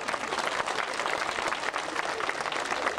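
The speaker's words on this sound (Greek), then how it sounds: "ένα χειροκρότημα στον κύριο μας πρόσωπο τα λούδια" Applause fills a parliament chamber during a protest session, steady dense clapping from many hands, fairly loud and continuous with no clear break.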